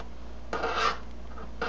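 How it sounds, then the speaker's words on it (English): A blade scrapes paint off the checkerboard binding of a guitar's sound hole, making two short, close rasping strokes over a quiet hum of background noise. "I'm pushing that blade out until it scrapes just the right amount of the paint off the checkerboard"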